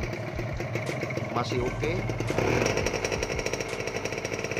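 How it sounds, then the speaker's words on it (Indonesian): A green 2015 Kawasaki Ninja RR motorcycle idles at a workshop, its engine rattling in a rapid, steady two-stroke putter close to the mic while someone talks over it. "Ini motor kondisi stasioner bro ya, kita cek sound untuk masalah mesin"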